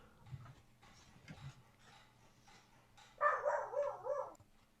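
A dog gives a short burst of several barks and yips near the end. Faint low tones and quiet room sounds come before it.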